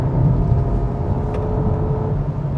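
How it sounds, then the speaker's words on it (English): A 2020 Hyundai Veloster accelerates hard in manual mode with brief wheel spin, its engine a loud, steady low roar with a rising whine over the short burst, no voices. "So a little bit of wheel spin now."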